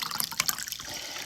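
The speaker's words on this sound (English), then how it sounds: "So we're pouring our water in." Water is poured in to mix snake juice, a short burst of close splashing and gurgling liquid with no voices over it.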